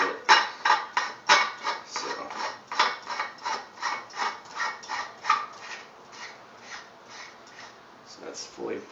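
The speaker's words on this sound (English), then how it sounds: "if I rotate it while I'm screwing it on" A threaded part is screwed on by hand while its nylon ring is rotated, giving a close, rhythmic series of rasping rubs and scrapes that repeat roughly twice a second.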